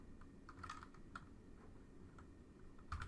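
Typing on a computer keyboard gives soft, quick, irregular key clicks in short bursts, quiet and close, with no one speaking.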